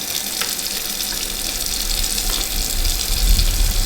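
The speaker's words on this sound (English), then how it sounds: "Fill it up, make sure the bottle doesn't touch the top of the tap, and remove it before it overflows." Water from a tap pours into a sample bottle, a loud close splashing rush with a deepening gurgle as the bottle fills, steady throughout with no speech.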